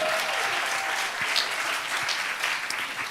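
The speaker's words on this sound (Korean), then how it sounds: "박수 쳐주시고." An audience applauds at a talk event with a question-and-answer session, steady clapping from many people in a room, moderately loud and sustained, with a faint voice near the start.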